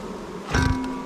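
Honey bees in an organically kept hive buzz during a spring inspection, a close, loud steady drone that swells briefly midway, with no talking.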